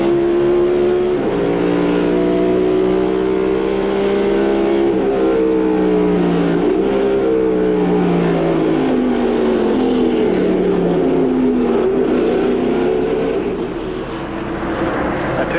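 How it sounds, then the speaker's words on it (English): Stock race cars at the 1995 Watkins Glen road course roar loudly and steadily, engine pitch rising and falling as they shift and pass, a dense, continuous drone of several cars. "Bill Elliott's very fortunate when he stood on the gas to try to spin the car around and make it do the 360"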